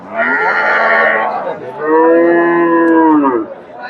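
A crossbred dairy cow at the Chandaikona cattle market gives two long, loud, close moos, the second slightly longer, with a short pause between them and no talking.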